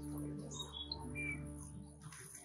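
A bird chirps near its nest of eggs inside a stock tank raised bed, with a few short tweets and squawks over a low background hum.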